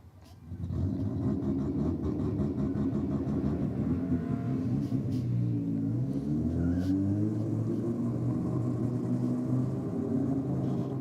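A Mitsubishi Lancer and a Mitsubishi Mirage idling and creeping forward at a drag race staging line, a steady low engine rumble with rising revs, no voices.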